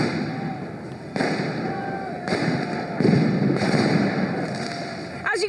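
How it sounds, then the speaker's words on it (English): Tear gas canisters launched at protesters during a yellow vest street clash in Paris, heard as repeated loud thumps and pops over constant crowd roar and commotion, with voices shouting throughout. "Tear gas keeps being shot at the protesters"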